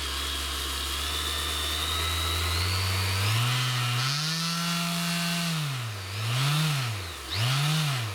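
Mirka DEROS random orbit sander running alone, its motor hum rising steadily in pitch, then swooping up and down in repeated waves as the speed is varied by hand.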